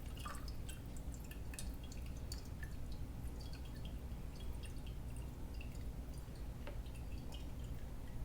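Chicken broth poured into a pot on a stovetop: a quiet, steady liquid trickle and drip sounds, faint under continuous low background hum, with no talk.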